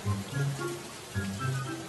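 Rain that has been falling steadily for three days in a village, a soft continuous hiss of drops on surfaces, fairly quiet and unbroken.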